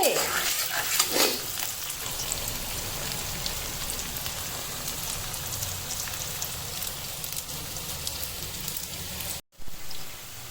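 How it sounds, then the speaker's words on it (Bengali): Onions frying in oil until golden brown for chicken curry give a dense, steady rain-like sizzle that runs for about ten seconds, with some stirring early on and a brief cut near the end. "পেঁয়াজগুলো গোল্ডেন ব্রাউন হওয়া পর্যন্ত আমি ফ্রাই করব"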